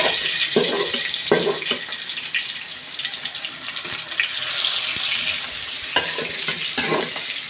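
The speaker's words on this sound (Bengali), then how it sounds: "এবার আমি এই তেলের ভিতরে এক এক করে মাছগুলো দিয়ে দেব।" Small snakehead fish fry in hot oil, a bright continuous sizzle with bursts of crackle and a few spatula clatters against the pan, close and fairly loud, no speech.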